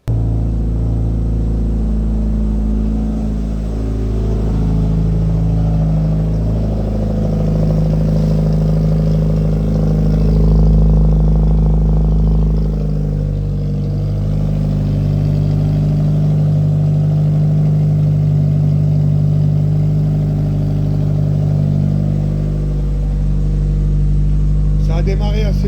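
A car engine starts and runs after battery cable work, a steady low rumble with slight revving swells that holds loud and close for the whole stretch, with a faint voice beneath it.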